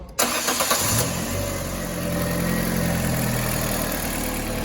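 A Fiat 1.2 8v petrol engine cranks briefly with rhythmic starter pulses, catches, and settles into a steady, loud, close idle.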